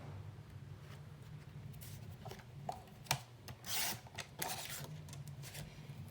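Dollar-store contact paper being cut makes faint, close rubbing and scraping strokes, with a few louder rasping bursts in the middle against a quiet hum.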